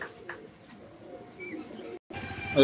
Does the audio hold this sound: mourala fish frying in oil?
no